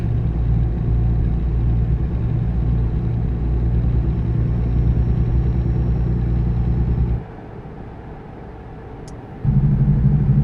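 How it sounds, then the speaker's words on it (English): A heavy truck's engine brake drones loud and close in American Truck Simulator, a steady low rumble that cuts out for about two seconds before kicking back in. "This engine brakes sing a little bit."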